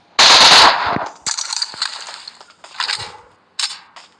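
Gunfire from a weapon in the mobile game PUBG Mobile crackles sharply: a loud opening burst, then several shorter rapid volleys with brief gaps, close and punchy, with no talking.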